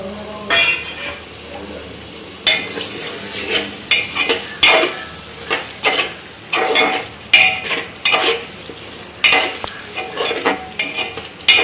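A spoon vigorously stirs and fries masala with chopped tomatoes for crab curry in a pot, with loud repeated scraping and clanking strokes over a sizzle.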